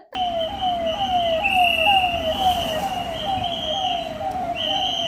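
Ambulance siren wailing close and loud, rising sweeps repeating about every half second for several seconds after an abrupt start, over traffic noise.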